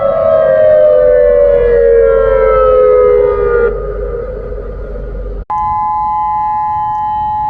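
Tsunami warning siren wails loud and steady across an oceanfront harbour with boats nearby, a long falling tone that drops in level partway, then cuts out briefly and resumes as a sustained, even blare.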